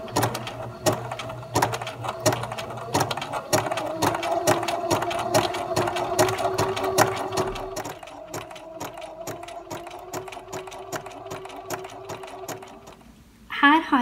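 A BERNINA sewing machine stitches a Spanish hemstitch in steady, fast mechanical bursts, clattering close and loud for most of the stretch before slowing near the end.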